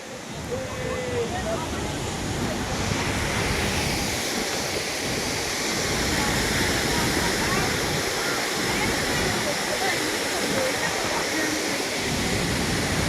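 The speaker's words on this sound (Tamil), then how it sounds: "இப்படி போகிறது இங்கே ஒரு அருவி" Steady, loud rushing of Athirappilly Falls heard from its base, a continuous roar of falling water that fills the whole clip without pause.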